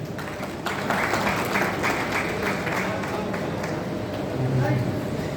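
Steady, sustained clapping from an audience fills a ceremony hall at a golden jubilee celebration in Srikakulam, dense and continuous throughout with a few brief voices mixed in.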